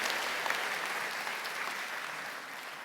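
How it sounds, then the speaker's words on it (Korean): A church congregation claps in welcome after a prayer, a soft, distant, steady patter of many hands that slowly fades toward the end. "여러분께 박수로 환영하시죠."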